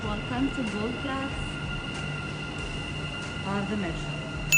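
Riding in the Gold Class cabin of a metro train: a steady rumbling hum with high tonal whine and wheel squeals, and faint voices rising over the ride noise.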